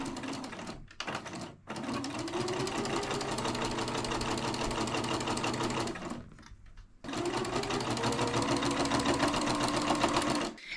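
A sewing machine fitted with a walking foot stitches leggings fabric in steady, close, continuous whirring runs, pausing briefly near the start and again mid-way before resuming at full speed.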